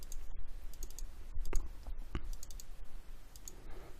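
A computer mouse clicks several times, sharp and close, with a couple of quick double clicks over a steady background hiss.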